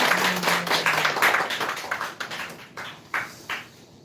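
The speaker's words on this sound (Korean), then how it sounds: "다시 한번 주님께 영광의 박수 올리겠습니다." A church congregation applauds during a Christmas worship service in Korea. Loud, dense clapping fades into scattered, sparser claps, with a brief sustained tone at the start.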